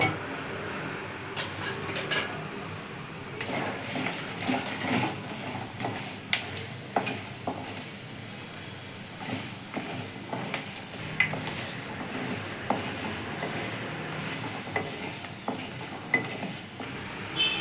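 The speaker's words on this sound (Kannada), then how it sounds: "ಈಗ ನೋಡಿ ಕಡಲೆ ಬೀಜ ಕಡಲೆಬೇಳೆ ಉದ್ದಿನ ಕಾಳು ಹಾಕೋತಾ ಇದ್ದೀನಿ ಇದನ್ನು ಸ್ವಲ್ಪ ಕೆಂಪು ಗುರ್ಕೋಬೇಕು" Peanuts, chana dal and urad dal fry in oil with a soft, steady sizzle, broken by occasional light scrapes and clinks of stirring. No one speaks.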